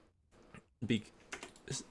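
Rapid keyboard typing while playing a World of Warcraft raid, clustered clicking keystrokes close up, with a voice speaking over them.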